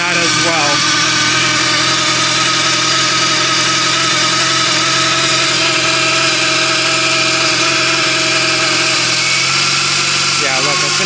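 Supercharged R53 Mini Cooper engine idling rough, a loud close continuous hum with an uneven, wavering drone, with someone talking over it.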